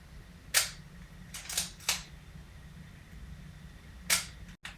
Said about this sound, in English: How does the shutter sound on a Leica M4P?